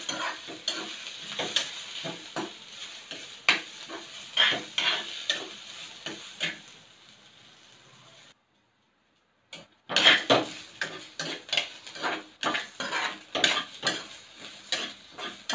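Dried coconut slices and onion sizzle and fry in a pan while being stirred, with repeated scraping strokes of a spoon against the pan, a brief silent pause midway, then steady stirring resumes, close and clear with no talk.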